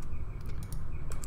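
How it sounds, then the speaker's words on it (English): Keystrokes on a computer keyboard during Blender modelling, with a few quick clicks of keys pressed close by over a steady background hum, no speech. "we're gonna hit Control R and then hit 5 on our keyboard"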